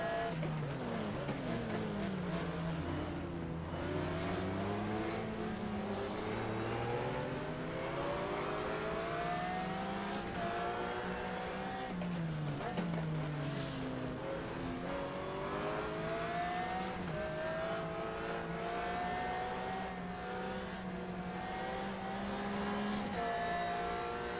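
Race car engines roar continuously in the GTR2 racing game, several Porsches and other cars revving up and down through corners and gear changes in a steady, loud, layered drone with no talking.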